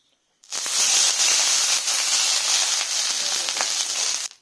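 Water splashes onto a dosa pan heated over a high flame and erupts into a loud, close hiss that holds steady for about four seconds, then cuts off abruptly.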